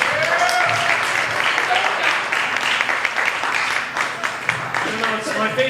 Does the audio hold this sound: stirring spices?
no